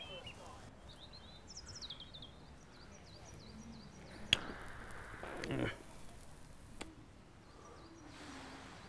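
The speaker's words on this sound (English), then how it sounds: "Relief, the birds are singing." Birds sing outdoors with thin, high chirping phrases, faint and somewhat distant, scattered through a quiet background broken by a few sharp knocks and a brief rustle.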